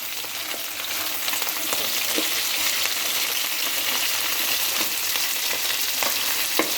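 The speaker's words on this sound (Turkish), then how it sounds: "Bunlarla da sotelensin." Continuous crackling sizzle of julienned peppers sautéing in a hot pan, with occasional scraping stirs, close up and steady, no voices.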